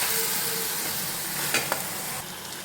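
Onions cook in a pan with a steady soft sizzle and frying hiss, close up, with a couple of brief stirring scrapes and no voices.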